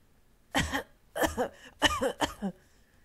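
A harsh, hacking coughing fit from a video game character: four rough coughs in close succession, loud and near, with no talking.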